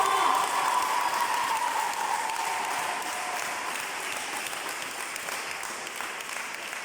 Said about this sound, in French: nous allons inviter la sœur Napa et sous vos acclamations